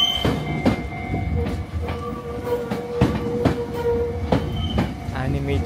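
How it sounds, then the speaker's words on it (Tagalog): A train passes close by near Mt Fuji with loud rolling rumble, rhythmic clickety-clack of wheels over rail joints, and a few brief tonal squeals, continuous throughout. "There's the train."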